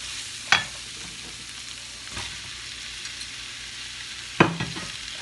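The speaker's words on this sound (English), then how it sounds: "I can put the vegetable in there to cook." Vegetables cook in a hot pan with a constant gentle sizzle, broken by two sharp utensil knocks and a softer scrape, close and without voices.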